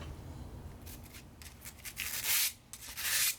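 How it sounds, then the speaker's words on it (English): Sandpaper is rubbed by hand over the steel blades of a Shopsmith molding head, giving close, scratchy rasping strokes that grow louder in several bursts near the end. "I start by doing a simple cleaning, using sandpaper to remove all the dust."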